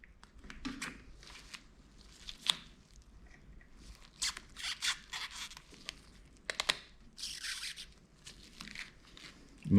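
A fresh razor blade slices a drain notch through rubber weatherstrip on a Bricklin car door, giving a run of close, crisp tearing and crinkling scrapes in uneven bursts, with some quiet talk.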